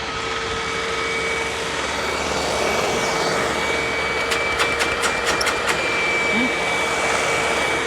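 A self-propelled purple Hoover WindTunnel vacuum cleaner runs with a loud steady whine and drone, joined near the end by a quick burst of sharp clicks or rattles.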